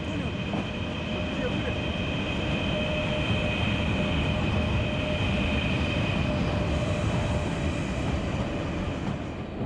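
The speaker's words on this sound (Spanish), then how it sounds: "Subí a un puente que cruzaba las vías y vi pasar un tren carguero." A long freight train passes beneath a railway bridge in Russia, a steady rumble of wheels and cars that holds at an even level throughout without voices.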